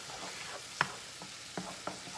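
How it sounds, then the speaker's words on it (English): Garlic cloves sizzle in a pan with a soft, steady hiss, broken by a few sharp clicks of a utensil stirring against the pan, close and quiet with no talking. "Now is when you really want to make sure that you stir it. And do not let the garlic burn"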